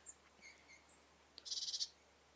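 Small birds sing spring songs outdoors, a few faint high chirps followed by a louder rapid trill of repeated notes, distant and alone.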